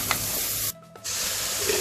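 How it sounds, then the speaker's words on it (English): Cabbage and potato tipped into hot masala in a pan, giving a loud sizzling hiss and stirring scrape that briefly drops away, then surges back into continuous frying. "Now I'll add my cabbage and potato."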